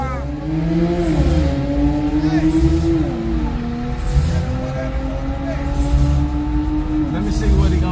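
Street race cars revving and racing, engines loud and near with repeated rising and falling gear pulls, under constant talk from nearby people.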